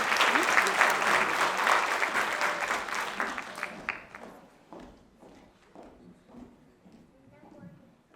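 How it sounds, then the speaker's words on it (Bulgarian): Lively audience applause at an award ceremony swells for several seconds, then thins to scattered claps and fades, with voices talking faintly under the tail. "Моля за вашите аплодисменти за доцент доктор Иво Попов"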